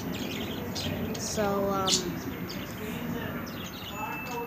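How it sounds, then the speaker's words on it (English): Pet birds chirp in short, bright calls close to the microphone indoors, with a brief burst of twittering partway through and a person speaking a word. "I'm just filming my birds"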